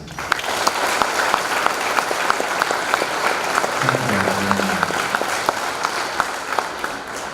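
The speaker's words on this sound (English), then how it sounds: "can we give a big round of applause for the Junior ROTC?" A school Veterans Day assembly applauds the Junior ROTC, with steady, loud crowd clapping throughout and sharp individual claps standing out rhythmically near the microphone, plus a brief voice midway.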